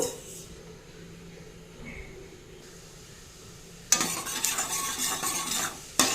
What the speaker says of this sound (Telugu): ఆయిల్ హీట్ అయిన తర్వాత ఆవాలు, జీలకర్ర, ఇంకా శనగపప్పు తీసుకున్నాను ఇక్కడ నేను